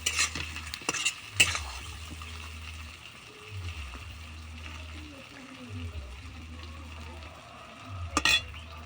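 Khichuri with Eid meat and lentils is stirred in a pan, giving soft scraping and sizzling under a low, steady kitchen hum, with a few sharp utensil knocks near the start and end.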